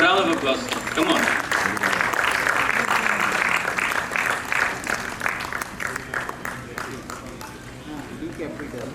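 Audience applause fills a conference hall during a session of the World Culture and Environment Protection Commission, steady dense clapping sustained throughout and tapering slightly toward the end.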